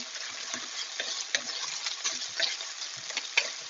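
Garlic and spices sizzling and frying in a pan, a steady close crackle and hiss with scattered sharper pops and stirring ticks, no voices.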